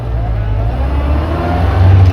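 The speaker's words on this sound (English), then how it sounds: "the throttle blip there to aid on the downshift" Land Rover Series IIA engine giving a quick throttle blip during a downshift, a close, loud low rumble that swells briefly near the end of a short burst.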